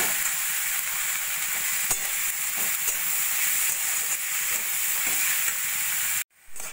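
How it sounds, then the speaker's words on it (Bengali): Potato, onion, peas, capsicum, carrot and tomato stir-fried with salt and turmeric in a pan, giving a loud continuous sizzle with occasional stirring scrapes before it cuts off abruptly near the end. "সব সবজি দিয়ে ভালো করে নাড়াচাড়া করে মিশিয়ে নিয়েছি"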